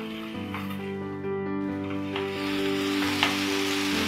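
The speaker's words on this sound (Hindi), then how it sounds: "अब इसको हल्का सा हम सॉटे करेंगे" Onions and cashews sautéing in a pan, giving a steady loud sizzle close by that carries on throughout, with a few light stirring scrapes and sustained tones underneath.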